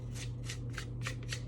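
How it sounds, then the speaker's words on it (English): Parchment paper being laid and pressed into a baking pan gives soft repeated crinkling rustles in a steady rhythm, close and fairly quiet, over a low hum. "laying the parchment paper down"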